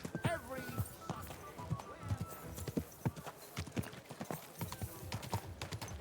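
Horse hooves clip-clopping at a quick, steady pace in the video game Kingdom Come: Deliverance II, close and distinct, with a horse whinnying near the start and a voice speaking briefly under the hoofbeats.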